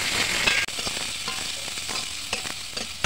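Chopped onions frying in a pan as the base for masoor lentil dal: close, continuous sizzling and crackling with occasional stirring scrapes and a sharp clack, and no voices.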